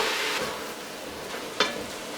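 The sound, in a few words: stirring fresh spinach into frying onion mixture in a pan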